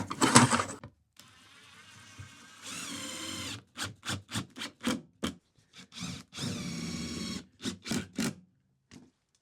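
A floorboard on a staircase being screwed down into place, with a series of short, close-up bursts from a power screwdriver and longer whirring runs, separated by brief pauses and scraping handling noises.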